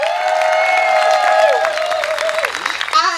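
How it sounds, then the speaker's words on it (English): A festival crowd at an outdoor Windrush celebration applauds and cheers, the clapping dense and sustained beneath a loud, drawn-out voice calling out over it. "we need to give a round of applause"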